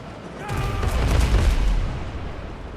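A deep booming warship cannon blast in a naval video game, loud and close, with a rumbling low-end tail, followed by crackling debris, game-like and alone without talk.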